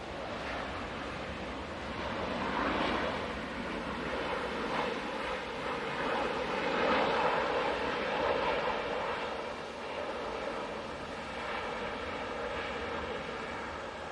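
A heavy airliner arriving at Manchester Airport, heard as a steady broadband roar of engines and rushing air that swells gently toward the middle and holds at a moderate, distant level, with no voices.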